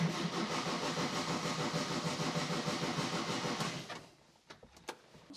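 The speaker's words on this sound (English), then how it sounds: "So let's crank it and see if we have any voltage drop here." A Porsche 356 with 6-volt wiring cranks on its starter for about four seconds, a loud rapid rhythmic churning that stops abruptly, followed by a few faint clicks and knocks.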